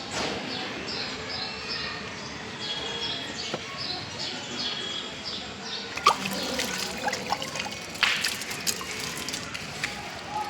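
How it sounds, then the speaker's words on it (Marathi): Fresh water poured into a potted periwinkle plant in a garden, a steady trickle and splash that runs throughout with brief sharper spatters near the end. Faint birdsong can be heard in the background. "आता आपण त्याला घालत आहोत ताजं ताजं पाणी"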